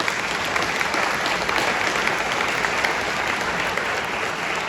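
Audience applause fills the room, a dense, even wash of many hands clapping continuously at moderate level, with no voices over it.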